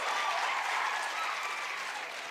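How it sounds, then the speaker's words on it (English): Steady crowd applause fills an indoor hall at a junior science and maths quiz championship, a dense, even wash of clapping with no voices over it. "Please, a round of applause."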